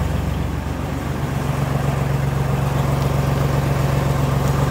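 A Deutz Fahr tractor engine idles steadily close by, a low rumbling drone with an even pulse throughout while the PTO clutch is worked, with no voices.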